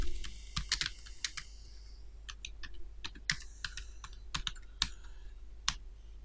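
Typing on a computer keyboard while writing text into an HTML editor, with quiet, irregular key clicks in short bursts and scattered single taps over a faint steady hum, no voices.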